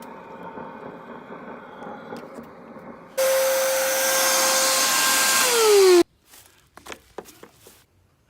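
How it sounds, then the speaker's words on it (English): A shop vac sucks air through a clogged AC drain line in Florida, a loud steady roar with a whining tone that lasts about three seconds and sags in pitch as it cuts off. Quieter rustling comes before it and scattered clunks follow. "that's the sound of the shop vac sucking air through"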